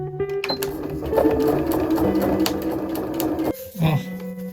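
A domestic sewing machine stitches pop-up roof fabric for a kei camper conversion that is skipping stitches. It makes a loud, steady mechanical whirring run for about three and a half seconds, then stops while a person talks.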